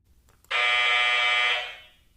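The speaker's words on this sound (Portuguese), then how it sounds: "Aqui você escolhe o som que vai tocar no fim do cronômetro" An LED TECH multisport scoreboard sounds its timer-end alarm as a single loud electronic buzzing tone. The tone holds steady for about a second and a half, then fades out against near silence.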